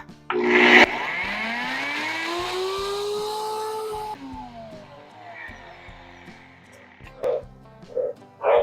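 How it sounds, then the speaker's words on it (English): A male Australian tree frog kept as a pet gives a few short croaks, loud and close, right after a long whirring blender run at home stops. "We have 2 Australian tree frogs,"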